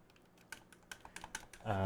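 Mechanical buttons and RB/LB bumpers on a game controller click like keyboard switches, about six sharp separate taps in an uneven rhythm, close and fairly quiet, ending with a short burst of voice.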